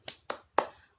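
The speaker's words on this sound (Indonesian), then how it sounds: "Kita tepuk semangat." Three sharp, separate claps spaced about a quarter second apart, close and crisp, from the opening beats of a classroom 'tepuk semangat' clapping routine.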